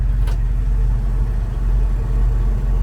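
A 1970 Chevrolet K truck engine with a manual choke runs at a steady, loud, low idle, with a brief click near the start and no voices.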